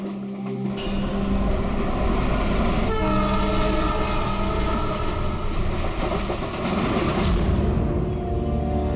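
A passenger train running loudly and close, with a steady rumbling roar and rhythmic wheel clatter throughout, a horn-like tone holding for much of the time.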